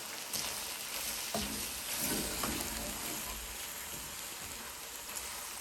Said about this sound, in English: This is sumac, salt, 7 spices, cumin powder, and I'll give it a good stir.